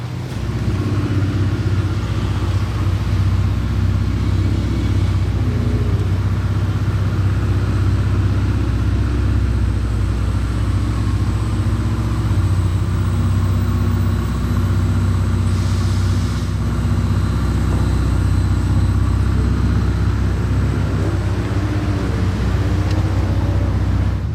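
A small convoy of Ferrari cars, including an SP3 and a Pista Spider, driving through Monaco with steady low engine rumble throughout, close and continuous, no voices.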